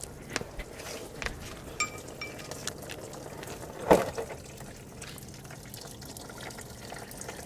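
Coolant drains from a GM Ecotec 1.4L engine into a drain pan during water pump replacement, a faint steady trickle with a brief louder splash partway through.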